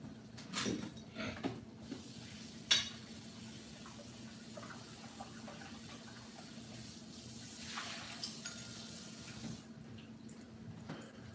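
Ears of corn rinsed under a running kitchen tap: a steady stream of water splashing into the sink, with a few sharper splashes and knocks near the start, at moderate level with no talking.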